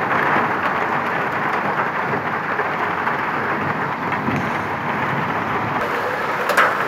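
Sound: large hailstones falling during a storm

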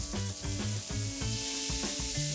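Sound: burger patty smashed and sizzling on the griddle

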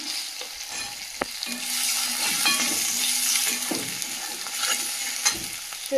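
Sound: tomato frying in pan with salt and coriander powder

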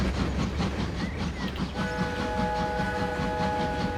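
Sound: freight train running in the video game Transport Fever 2

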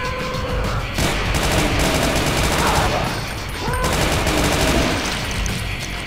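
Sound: single-shot weapon firing in Brutal Doom video game

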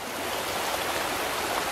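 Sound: river water flowing

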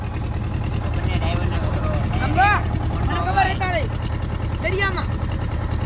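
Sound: fishing boat moving at sea

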